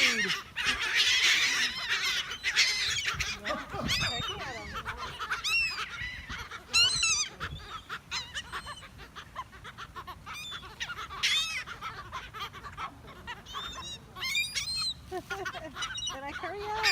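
Ducks and geese at a park honking and calling repeatedly, loud, close and overlapping, with occasional voices in the background.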